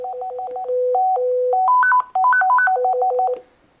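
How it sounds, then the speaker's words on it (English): Ringtone from a Cobra MT645 or Motorola TLKR T8 PMR446 walkie-talkie: a loud, clean electronic melody of quick stepping beeps, repeated short tones rising and falling in pitch, with a brief gap midway. "you have 5 different ringtones."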